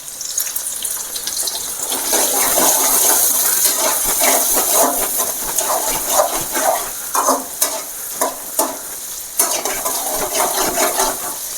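Curry leaves dropped into a pan of masala egg podimas, frying with a steady loud sizzle and crackle while a spoon scrapes and stirs in short repeated strokes.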